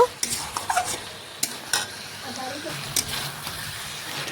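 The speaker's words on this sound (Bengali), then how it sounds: "এইভাবে সমস্ত কিছু দেখুন মেশাতে মেশাতে চিকেনটা কিন্তু আমার ভালোভাবে কষানো হয়ে গেছে" Chicken with spices being stirred in a pan as it fries down, with scraping stir strokes and a soft sizzle; a voice talks over it.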